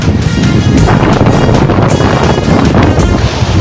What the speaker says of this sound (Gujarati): કેટલો પવન આવે છે, ઉપરા ઉપર બહુ પવન આવે છે.